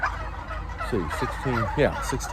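Gobbling from young domestic turkeys around 16 weeks old, several rapid rattling bursts close by over a steady barnyard background, with no talking.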